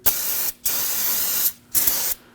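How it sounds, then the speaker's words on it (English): Three sharp hissing bursts from an aerosol can of solvent sprayed on a Ford Taurus wheel hub, close and loud, the first two long and the last shorter, with brief pauses between. "Now, if you have some spray solvent, that's going to come in extremely handy."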